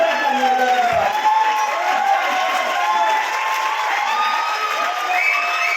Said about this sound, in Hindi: महागुरु के लिए अब तक की शानदार तालियां होनी चाहिए